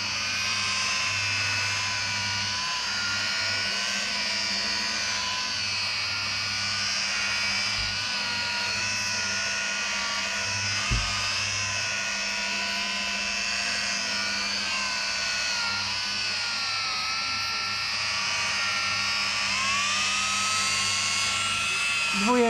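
A rotary polisher with a sponge pad and polishing paste whines steadily on sheet metal, its pitch shifting as it is pressed hard, with someone talking over it throughout.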